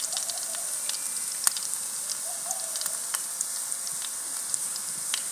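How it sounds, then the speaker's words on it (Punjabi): Garlic with onion and green chili frying in a pan for a Punjabi mixed vegetable sabzi, a steady bright sizzle with scattered crackles and pops throughout. "ਲਸਣ ਭੁੱਜ ਗਏ ਹੈ।"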